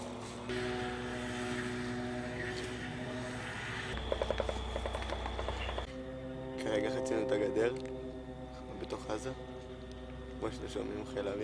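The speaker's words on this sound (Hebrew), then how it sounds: "שומעים חיל האוויר מפציץ, מפציץ חזק, הנה אתם שומעים" Military air force aircraft drone steadily in the distance during a ground operation, a low, sustained engine rumble that shifts in tone, with voices faint beneath it.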